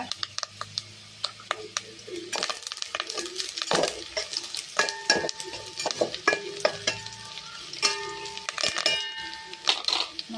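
Onions frying in oil in a pan for a Tulu-style mussel dish, with a steady sizzle broken by frequent scraping and stirring clatter, and faint bird calls in the background.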